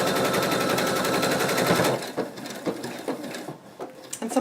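Rapid rhythmic stitching from a sewing machine sewing fleece for a betta fish plush, loud and close for about two seconds, then stopping and giving way to light handling clicks and rustles.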